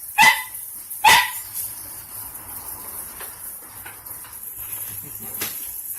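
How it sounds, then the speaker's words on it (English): A dog barks outdoors twice in quick succession near the start, sharp and fairly close, followed by quieter ambient noise with faint chirping insects and an occasional soft distant sound. "got my little cute friend's dog out here"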